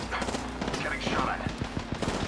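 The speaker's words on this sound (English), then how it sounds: "Taking fire." Gunfire in the Apex Legends video game, a quick series of sharp shots in an irregular rhythm, with some louder hits near the end and a voice heard in the mix.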